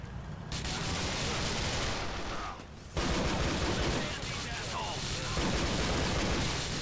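Gunfire in the video game GTA: The Lost and Damned, a dense run of rapid shots filling the whole clip with only a brief lull near the middle, loud and close.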